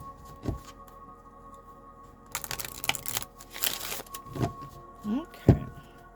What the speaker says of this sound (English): Let's give this some shuffles.